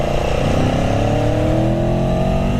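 A 2017 Aprilia Tuono V4 Factory motorcycle on a road near San Diego, its engine revving hard and climbing steadily in pitch, loud and close throughout the brief stretch.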